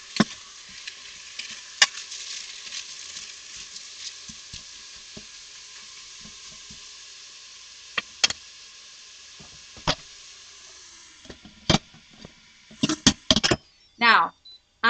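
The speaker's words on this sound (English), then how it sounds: "that sizzling bacon is awfully loud" Bacon frying in an Instant Pot gives off a steady, loud sizzling hiss, broken by sharp clicks and scrapes of a wooden spoon, while a person talks over it.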